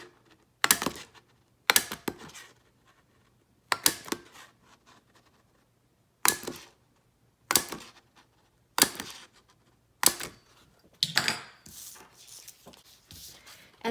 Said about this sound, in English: And then I'm just going to punch out my holes.